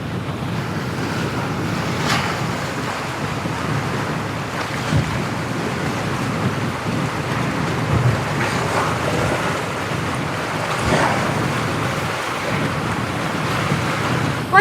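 Ocean waves surge and wash continuously while strong wind buffets the microphone, loud and steady with no talking.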